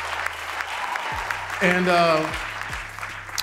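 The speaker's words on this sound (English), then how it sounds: "The audience responded with thunderous applause" A studio audience applauds for Jamie Foxx, a steady wash of clapping mixed with cheering, with a voice talking over it.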